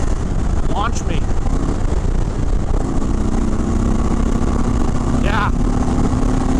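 Indian Chief Sport motorcycle engine at full throttle, a steady loud drone with a low harmonic hum holding throughout, buffeted by wind, with brief voices calling out over it.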